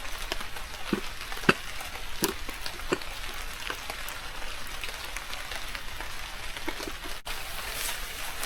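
Bananas cook on a camp stove at a rainy campsite, giving a soft continuous sizzle with scattered pops and ticks that sound like rain on a surface, with no talking.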